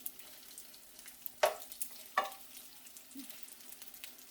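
Beijing beef frying in a pan, a faint steady sizzle with a couple of sharp stir clatters and scrapes standing out briefly.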